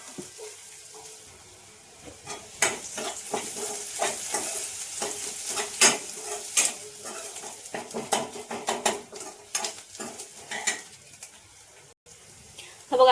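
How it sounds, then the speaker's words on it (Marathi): Garlic, curry leaves and finely chopped onion fry in a pan, a steady sizzle broken by repeated sharp scrapes and clinks of a spoon stirring against the metal, loud and close with no talk. "लसूण, कढीपत्ता, कांदा एक बारीक चिरलेला तो टाकते. त्याला मस्त लाल शिजवून घेऊया."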